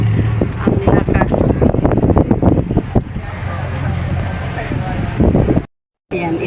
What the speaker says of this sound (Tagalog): Kita nyo guys, naririnig nyo yung hangin. Ang lakas.